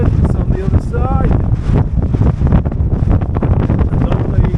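Strong gusty wind at the Strait of Gibraltar buffets the microphone in a steady low roar, with someone talking over it throughout.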